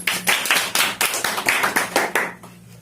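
Applause for the winners of a decimal addition competition, made up of a small group clapping in rhythmic bursts of roughly steady beats that fade at the end.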